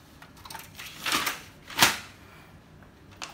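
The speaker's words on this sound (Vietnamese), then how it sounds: "Mình bỏ giấy vô" Paper being loaded into the tray of an HP Pro 400 M401dne laser printer, with rustling sheets and two sharp plastic clacks as the tray is handled, close up and without talking.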